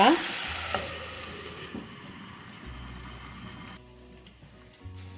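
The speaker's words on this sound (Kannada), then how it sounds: "ಲೋ ಫ್ಲೇಮಲ್ಲಿ ಇಟ್ಕೊಂಡು ಬೇಯಿಸ್ಕೊಳ್ಳಿ ಒಂದು ಹತ್ತು ನಿಮಿಷ" Pepper chicken cooking over a low flame in a pan, a soft, steady sizzle and faint bubbling with a brief scrape at the start and a low hum underneath.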